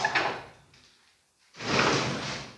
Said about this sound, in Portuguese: Vamos ver se essas portas ainda estão funcionando.